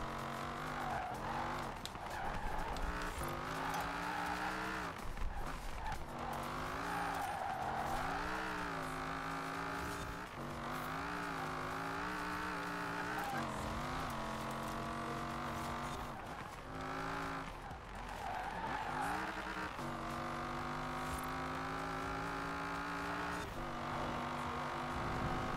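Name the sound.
car engine driving in video game Forza Horizon 4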